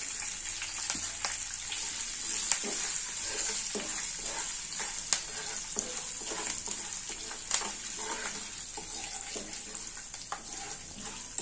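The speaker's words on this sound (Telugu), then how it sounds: "టమాటా ఆయిల్ వేయించుకోండి, నూనె బాగుంటుంది." Tomatoes frying in oil in a pan, a steady hissing sizzle with occasional stirring scrapes and small pops, heard up close with no voices.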